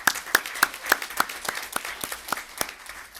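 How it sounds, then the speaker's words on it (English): Applause at a city council meeting, with a few distinct, evenly paced close claps standing out over lighter scattered clapping from a modest audience. "Can we give a round of applause to the amazing students giving back to our community?"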